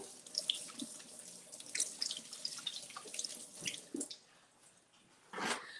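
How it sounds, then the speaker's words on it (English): Tap water runs steadily into a sink while hands are washed beneath it, a close splashing rush with small drips and shifts, ending in a brief louder gush. "Let me wash my hands."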